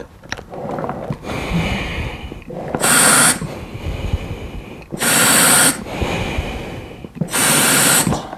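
A diver breathes through a rebreather loop after exhaling all the gas from the lungs, the negative pressure adding diluent to the loop. Three loud hissing bursts of gas come at regular intervals between quieter breaths.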